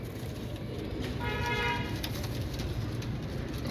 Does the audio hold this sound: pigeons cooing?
yes